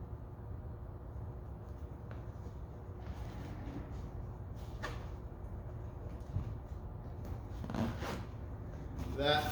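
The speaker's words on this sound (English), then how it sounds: "Do your zipper on the bottom first." A few quiet zipper pulls on a Jeep JL soft-top roll bar cover, short rasping strokes spaced apart, over a low steady background hum.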